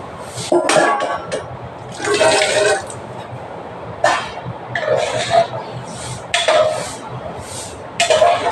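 Water is poured in several separate bursts into a cooking pot holding half a kilo of mutton, splashing close by with short gaps and light clinks between pours.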